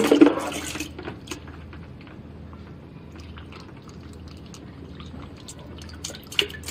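Water trickling and dripping from the overflow hole of a 360-degree fat-freezing cryolipolysis machine as its tank fills, a soft, steady low-level flow with a brief louder splash at the start and another near the end.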